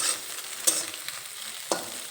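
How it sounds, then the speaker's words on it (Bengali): Scrambled egg frying on a low-to-medium flame and broken up with a spatula: a quiet continuous sizzle with a few sharp scrapes and taps of the spatula against the pan, no talk. "ডিমটা খুন্তি দিয়ে ভেঙে ঝুরি ভাজার মতো করে নিয়েছি"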